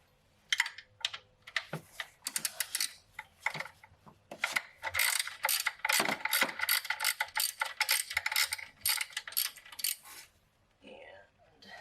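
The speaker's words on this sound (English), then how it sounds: "I'm going to go ahead and take off the 10 millimeter bolt right here" A ratchet wrench loosening a 10 mm bolt during alternator replacement on a Toyota FJ Cruiser, producing rapid close clicking bursts in repeated strokes with short pauses between them.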